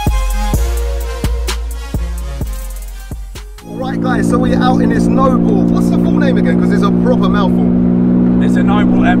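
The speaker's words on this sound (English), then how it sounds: "Loud as hell in here, isn't it? Straight through exhaust pipe." Engine of a 500 bhp Noble M12 GTO 3R with a straight-through exhaust, heard from inside the cabin: sharp pops and clicks give way to a loud, sustained roaring drone.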